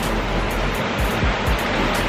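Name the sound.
rushing river in Hawaii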